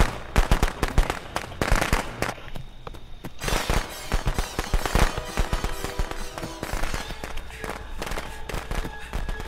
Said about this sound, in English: Now he uses some firecrackers.